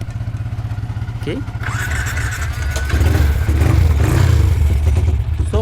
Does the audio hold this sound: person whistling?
no